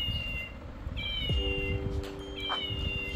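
A child imitates a cat, giving a few drawn-out meows, one after another, at close range in a quiet home.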